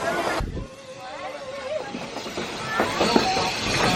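Runaway mine trains of Big Thunder Mountain Railroad at Magic Kingdom, Walt Disney World, rumbling and hissing with rattling clatter and squealing wheels while a ride narrator talks over the scene.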